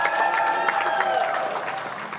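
A crowd applauds and cheers at the podium ceremony of a Porsche Carrera Cup Asia race at Sepang, a steady wash of clapping and voices under an announcer speaking over a PA.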